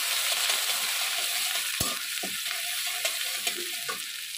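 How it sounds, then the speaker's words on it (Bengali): Ginger and green chili paste sautéing in a hot pan, a continuous bright sizzle with scattered clinks and scrapes of stirring, close and fairly loud, with no talk. "এবার এতে আমি একটু আদা কাঁচা লঙ্কার পেস্ট দিয়ে দেবো। দিয়ে আমি এটাকে কষাবো।"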